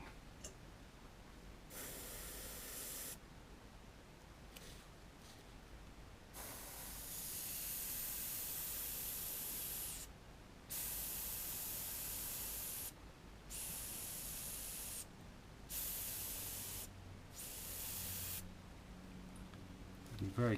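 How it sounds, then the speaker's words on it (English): Vallejo chrome metallic paint sprayed from an airbrush onto a Tamiya 1/12 Ducati 916 model kit: soft steady hissing bursts of several seconds separated by short pauses, quiet and close. "Be very careful when you spray metallics, especially silvers."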